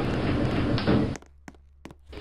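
Elevator doors closing with a loud, close sliding rumble that stops with a soft thunk, then a few light knocks and clicks against a quiet hum.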